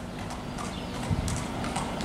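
A broad, compact ten-year-old grey horse, 1.49 m tall, shifts its hooves in a few soft, scattered steps, faint and close, with no voices.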